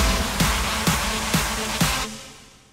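A big room house lead synth in the build of a track, with broad, bright stabs on a steady beat, four evenly spaced hits, then a decaying tail.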